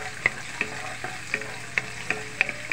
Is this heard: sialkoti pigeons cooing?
no